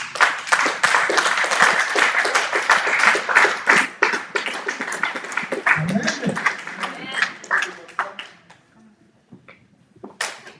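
A church congregation claps and cheers at a Friday service, dense rhythmic applause that thins out and fades into scattered claps near the end, with voices mixed in.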